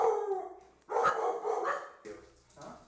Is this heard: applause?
no